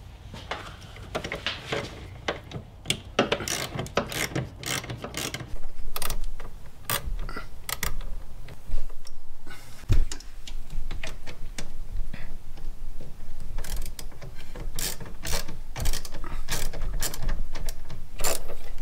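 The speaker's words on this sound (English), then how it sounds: "As you're loosening this bolt, it's pulling the connector out of the TCU." A ratchet works to loosen a bolt on a 1999–2004 Jeep Grand Cherokee, with a steady series of close, sharp clicks running throughout. Wrench handling and clanks are mixed in, and no one speaks.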